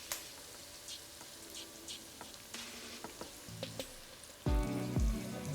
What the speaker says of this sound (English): Just going to add in some of our stock.